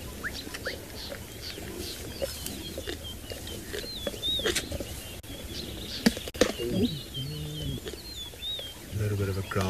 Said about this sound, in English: Some of the birds chirping off in the distance